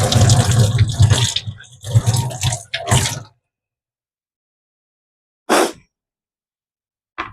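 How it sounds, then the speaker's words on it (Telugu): Ridge gourds washed under running tap water: a few seconds of close splashing and running water that stops, followed by silence and two brief later splashes. "ఈ తొక్కంతా తీసేసి 2 బీరకాయలకు శుభ్రంగా కడిగేసుకోవాలండి."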